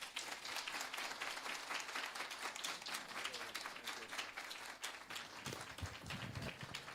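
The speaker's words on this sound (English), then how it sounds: "standing up and giving a round of applause" Sustained applause from an audience at a management seminar in Jamaica as a speaker, Dr. Christopher Tufton, is welcomed, a dense steady roar of clapping with some crowd murmur, lasting throughout.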